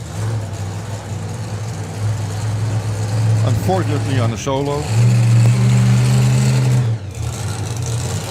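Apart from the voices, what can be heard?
drag racing car coming around the corner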